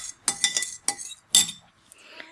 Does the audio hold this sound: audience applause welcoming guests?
no